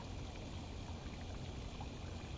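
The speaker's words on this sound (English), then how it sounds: "The water pump keeps the system moving by circulating water from the fish to the plant's grow bed" An aquaponics system's water pump moves water from the fish tank to the plant grow bed, making a steady, even rush of flowing water with no breaks, heard alone at low level.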